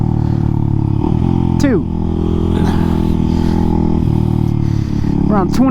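A motorcycle being ridden for wheelie practice climbs loud and close through several quick gear changes, engine pitch rising and dropping sharply between shifts, with a voice speaking briefly over the engine.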